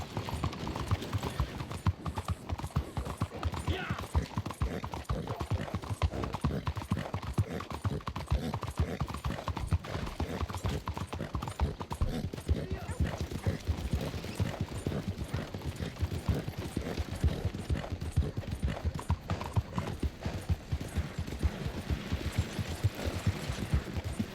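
Horse hooves in Red Dead Redemption 2 clip-clop in a steady, continuous gallop rhythm at moderate volume, with no other sounds over them.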